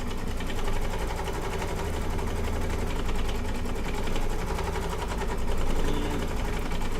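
Embroidery machine stitching an applique on a fabric table runner, a steady, loud mechanical whir with a fast rhythmic needle pulse that runs continuously and fairly close, with no talk over it.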